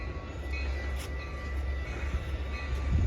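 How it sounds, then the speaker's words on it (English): A train rolling past on rail tracks, a steady, loud rumble with heavy low-end drone and faint metallic hiss, continuous throughout and heard outdoors without talk. "Here's our train."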